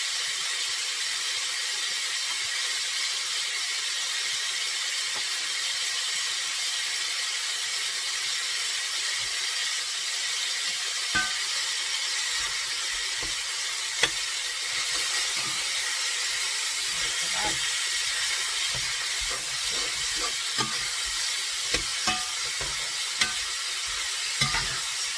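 Pork browning in a cast iron skillet gives a steady, bright sizzle and crackle, with occasional stirring scrapes and pops close up, no talking.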